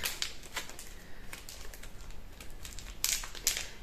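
Packaging of a plastic letter-stencil ruler being opened up close, with sharp crinkling plastic and quiet irregular clicks and rustles in short bursts.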